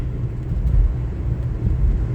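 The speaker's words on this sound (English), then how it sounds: "City truck doing its job." A city snowplow truck scrapes ice and snow with its blade, making a continuous heavy low rumble and grinding roar that stays steady and fairly close.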